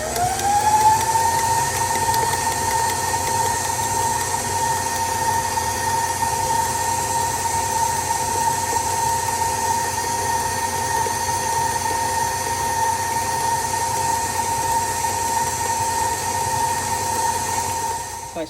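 A stand mixer whips vanilla buttercream, its motor whine climbing in pitch as the speed is raised, then holding a steady, loud, continuous hum with no voices.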